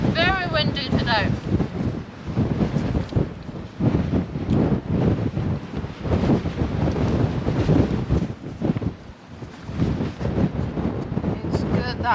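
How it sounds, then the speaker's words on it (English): Strong wind buffets the microphone on a coastal hike in the Faroe Islands, a constant loud rushing roar with gusty swells that fills the whole stretch, with a voice briefly audible at the start. "Very windy today."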